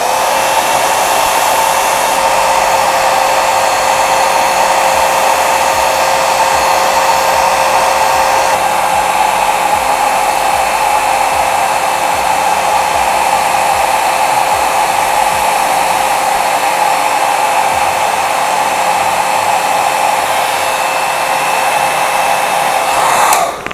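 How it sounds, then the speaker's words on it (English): A hair dryer blows loud and steady for the whole stretch while a lace front wig is dried into shape. The whine stays even, with one slight shift in tone partway through, and no one talks. "I go back in with the dryer to dry it in that form"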